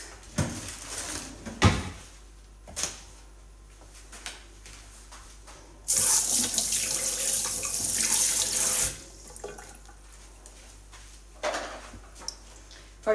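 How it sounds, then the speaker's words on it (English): Kitchen faucet running into a sink while hands are washed during cheesy broccoli biscuit baking, a loud rushing stream for about three seconds amid scattered knocks, clatter and a few brief splashes before and after. "So I'm going to wash my hands."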